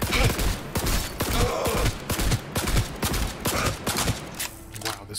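Gunfire in the Cyberpunk video game comes as rapid repeated shots in short bursts, loud and close, separated by brief pauses before quieter ambient noise near the end.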